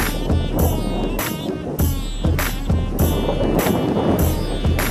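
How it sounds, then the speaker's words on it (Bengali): Strong gusts of wind on Bakkhali sea beach buffet the microphone in loud, rushing bursts, steady and close throughout. "প্রচুর হাওয়া দিচ্ছে"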